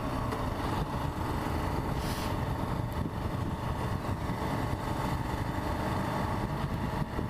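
A KLR650 motorcycle engine drones steadily while riding on roads with some snow, a dense continuous rumble with wind noise and no pauses.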